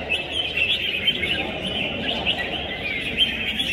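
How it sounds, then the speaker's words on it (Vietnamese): Competition songbirds at a bird-fighting arena final in Cẩm Phả, Quảng Ninh, call aggressively at one another, a dense, continuous stream of sharp chirps and rapid harsh notes with steady loudness throughout. "Chú chim cất rất nhiều tiếng ké và uy hiếp để đánh những chú chim bên cạnh"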